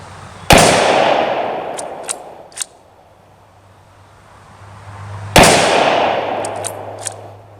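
A Kar98K German Mauser bolt-action rifle fires 197 grain soft point ammunition outdoors, two loud sharp cracks several seconds apart, each ringing out in a long decaying echo, with faint metallic clicks of the bolt between shots.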